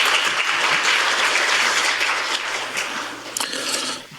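Big applause welcoming a lawmaker to the podium at a National Assembly policy forum on nutrition and care, full steady clapping from the hall that thins out near the end.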